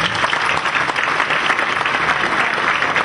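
An audience applauds a family at a tribute event, a dense, steady round of clapping that fills the whole moment at close range.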